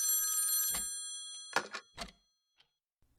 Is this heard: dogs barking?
no